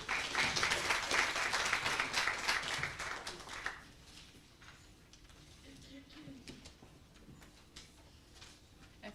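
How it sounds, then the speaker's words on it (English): At a nursing students' oath-taking ceremony, an audience claps warmly for about four seconds before the applause thins into scattered claps and faint room noise, with a voice speaking quietly as it fades. "I think Mrs. Kramer needs another hand of applause, please."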